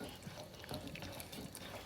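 Butter sauce pouring into a big pot for seafood scampi pasta, a soft continuous liquid splash and trickle close by, steady for a couple of seconds with faint clinks.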